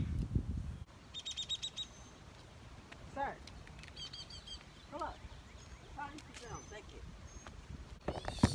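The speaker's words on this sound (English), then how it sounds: "This bird is like literally right here." Bird chirps ring out close by outdoors in scattered bursts of short, bright tweets, with a person talking briefly at the start and end.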